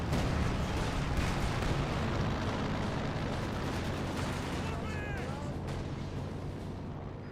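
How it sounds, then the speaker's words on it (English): Landmine detonation in Company of Heroes 2, a loud sustained rumbling blast with dense battlefield noise throughout, a few short whistling sweeps near the end as the roar slowly fades. "Landmine has been detonated."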